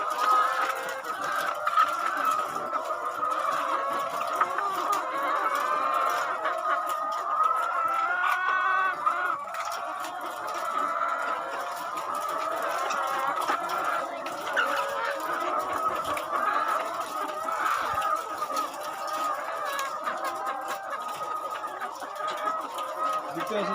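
Many hens cluck steadily throughout a busy egg farm, a dense, continuous chorus of overlapping calls with occasional louder squawks and no talking.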